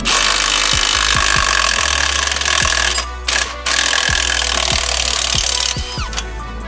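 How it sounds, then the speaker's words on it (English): Socket wrench working an 18mm bolt on the rear strut of a BMW E46, with repeated sharp ratchet clicks spaced at uneven intervals, heard close and loud over a continuous noisy background. "we're going to take our 18mm back here. And we're going to use our socket right here."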